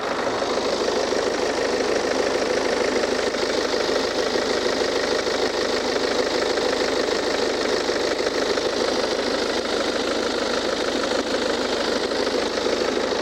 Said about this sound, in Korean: 자, 엔진룸 들려드리겠습니다.